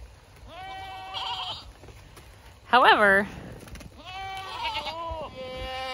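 Goats on a farm bleat in several distinct wavering calls, one louder and closer in the middle, with quieter bleats before and after; a voice speaks briefly over the animals.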